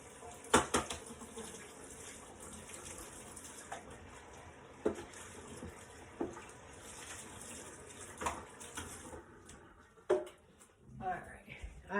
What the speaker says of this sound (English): I've rinsed out these 2.